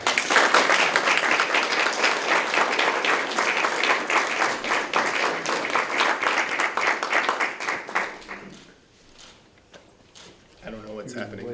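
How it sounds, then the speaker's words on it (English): Audience applause at a volunteer awards ceremony, loud and sustained dense clapping that fades around eight seconds, followed by quiet room noise and brief talk near the end. "can we get another round of applause for John?"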